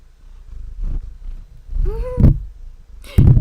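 Close, muffled rustling and thumping as a cat brushes against the microphone, with soft purring and a brief high cat vocalisation mixed in.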